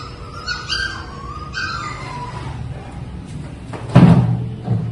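Labrador puppies of heavy build, hyperactive, give a few short whines and yelps near the mic, followed by a louder bump or knock near the end.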